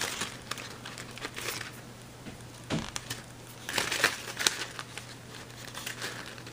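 Paper creased and folded for origami, soft close crinkles and scrapes in short irregular bursts over a faint steady hum.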